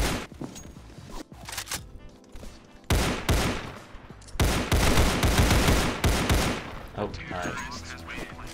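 Rapid gunfire in the Counterblox video game, several loud bursts of shots with brief pauses between them and a voice briefly speaking over the shooting.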